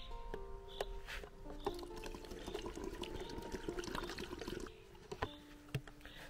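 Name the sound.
pouring homemade windshield washer fluid through a bottle funnel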